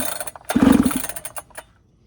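A freshly ported Holtzfforma 395 chainsaw, flooded after fuel was sprayed into the cylinder, sputters briefly into life with a short rough burst of engine noise, then dies away to near silence.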